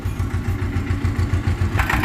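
A tractor engine runs steadily in a field during cumin sowing, a close, loud, even low thumping that continues for the whole stretch without talk.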